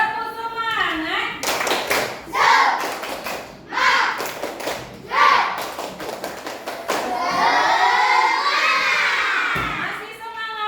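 A classroom of children performs the tepuk semangat, a rhythmic clapping chant, with loud bursts of shouted chanting and sharp claps in alternating beats, then a sustained crowd of young voices cheering together near and loud.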